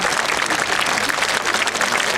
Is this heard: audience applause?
yes